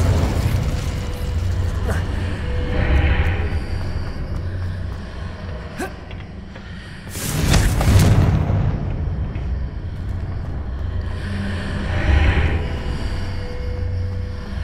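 Confringo blasting spell cast in Hogwarts Legacy, a loud broadband burst erupting near the middle and rolling out over a low rumbling backdrop, with smaller whooshing swells before and after and a spoken spell call heard amid the game sound.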